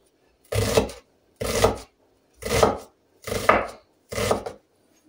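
A knife chops onion on a cutting board in five distinct, evenly spaced strokes about a second apart, each a close, solid thud with a short scrape, and silence between them.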